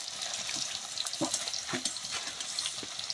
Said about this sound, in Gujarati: જરીક ફ્રાય કરવું જોઈએ ને લસણ કાંદાને ફ્રાય થાય